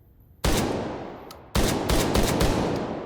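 Semi-automatic gun firing in H3VR, the VR shooting game: a loud single shot, a pause, then a rapid string of sharp close shots fired in quick succession, with no talking.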